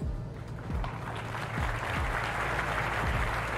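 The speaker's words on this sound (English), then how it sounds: "I didn't need the applause." Applause sound effect in the Microsoft Flight Simulator game, triggered while flying a BN-2 Islander approach in strong wind, a steady burst of crowd clapping filling the clip at even loudness with no voice over it.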